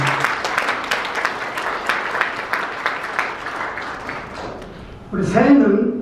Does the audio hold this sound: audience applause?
yes